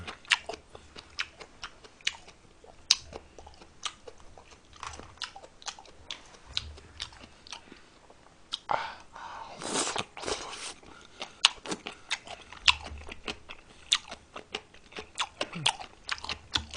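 Radish kimchi being chewed and crunched, close and quiet, with a steady run of sharp, irregular bites and crunches across the whole stretch and little talk.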